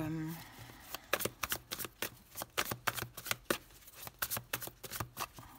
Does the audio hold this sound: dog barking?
no